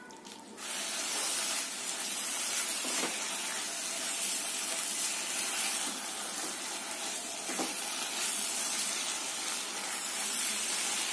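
Spices with Kashmiri red chilli and coriander powder roasting in hot oil for jackfruit kofta curry, a loud, steady, hissing sizzle that starts abruptly and carries on without a break.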